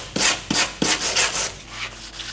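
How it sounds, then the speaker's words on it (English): Gloss paint being wet sanded by hand with sandpaper: a few firm, rhythmic back-and-forth rubbing strokes up close, fading into lighter, softer strokes toward the end. "I found that paper was just clogging up too much when I was sanding this dry, so I've converted over to wet sanding"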